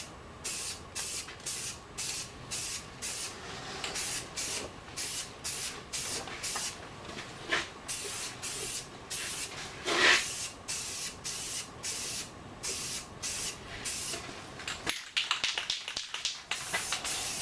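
A nearly new spray paint can lays a first coat on restored farm toys, with a rapid run of short, close hissing bursts, a longer blast near the middle and a rougher flurry near the end.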